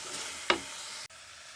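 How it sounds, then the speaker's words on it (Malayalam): Masala cooking down with onion and tomato in a pan gives a steady soft sizzle, broken near the middle by one brief louder scrape or stir, with no one talking. "മസാലയെല്ലാം ഈ ഒരു ഉള്ളിയിലും തക്കാളിയിലൊക്കെ പിടിച്ച് നല്ലവണ്ണം മൂത്ത് വരണം"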